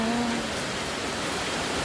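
Steady, even rain hiss fills the whole moment, a broad wash of falling water with no distinct drops standing out and no voices.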